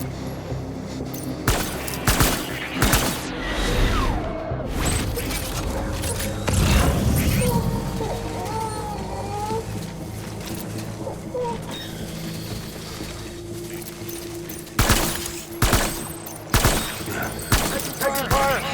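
Gunfire in the video game Death Stranding Director's Cut, a steady rumble of combat with repeated sharp shots and bursts, some booms and mechanical clatter, loud throughout.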